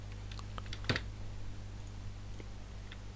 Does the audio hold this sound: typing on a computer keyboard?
yes